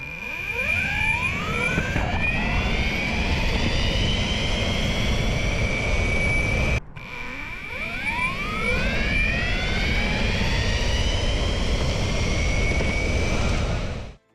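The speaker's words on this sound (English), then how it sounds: "The motors make a loud whirring during acceleration and braking," Belt-drive Veymax Merlin electric skateboard motors whirring loudly through acceleration and braking, a steady close drone with rising and falling pitch sweeps, two passes separated by a brief break, no talk.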